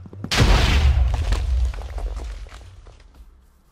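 A sudden heavy boom bursts out and rumbles on, slowly fading over a few seconds, an explosion in modded Minecraft Skyblock, with no talking.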